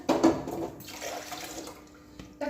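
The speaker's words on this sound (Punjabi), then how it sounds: "ਮੈਂ ਚਾਵਲ ਧੋ ਲਾਂ ਚਾਵਲ ਆਪਾਂ ਧੋ ਕੇ ਵਿੱਚ ਪਾ ਦਿੰਦੇ ਆ" Rice being washed under running water from a tap in a home kitchen, a soft trickling and splashing stream with a few clinks, fairly quiet and close.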